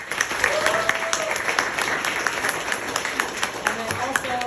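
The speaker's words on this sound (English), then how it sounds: "I want to just go ahead and give Joanna a hand of applause" An audience at a women's empowerment speech applauds steadily, a dense, close wash of clapping with a few voices rising through it.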